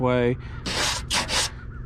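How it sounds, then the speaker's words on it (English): A flat pad is rubbed by hand over car paint on a 2001 Ford Focus, giving three short, close, hissing scrapes in quick succession after a brief tone. "that gives you more of an even sand versus just sanding all in one direction"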